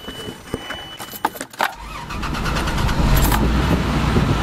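A 2011 Toyota Tundra pickup truck, with about 235 thousand miles on it, starts up close by: keys jangle, the starter cranks briefly, and the engine catches into a steady idle rumble.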